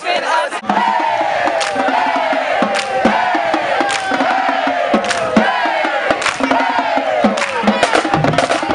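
A university pep rally crowd of Savannah State students cheers and chants in rhythmic unison, loud and sustained, with sharp claps punctuating the roar.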